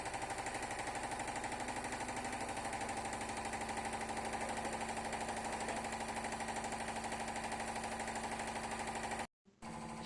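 A diesel engine on a laboratory test bench runs under added load, a steady close, loud rumble with a dense rhythmic knock, and a brief dropout near the end.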